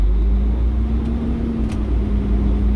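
Class 1 truck's engine revving steadily during an air brake pre-trip check, a loud continuous low rumble and hum with a held tone, close by with no talk over it.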